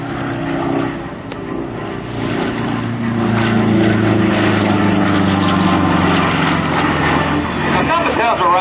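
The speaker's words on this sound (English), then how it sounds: "That's Mr. Rob Holland comes through with his Model 12 Pitts in the upside-down inverted position" A Pitts Model 12 aerobatic biplane roars past inverted at an airshow, its loud propeller engine drone rising and holding steady for several seconds while an announcer talks over it.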